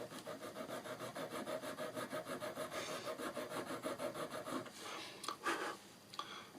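A hand file rasps across soft brass, the flat being worked onto a model railway turnout part, in a steady run of quick rhythmic strokes close up, slowing to a few scattered scrapes near the end.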